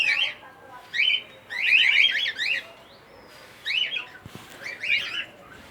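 Cockatiels and African lovebirds in an aviary give shrill, repeated chirping calls in short bursts with brief pauses, fairly close and loud over a quiet background.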